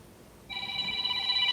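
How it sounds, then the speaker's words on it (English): A work telephone rings with a steady electronic tone, starting about a third of the way in and continuing at moderate volume to the end, with no talking over it. "my work phone's ringing"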